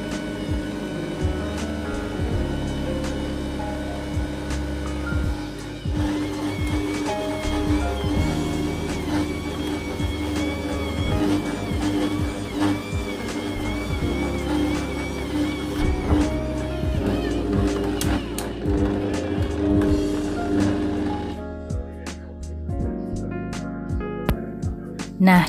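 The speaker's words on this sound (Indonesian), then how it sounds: "sekarang kita giling adonan dengan kecepatan sedang sampai adonan benar-benar tercampur dengan rata" Stand mixer kneading potato bread dough at medium speed, a steady whirring motor hum with rhythmic thumping and clanking as the dough turns, loud and continuous before dropping off near the end.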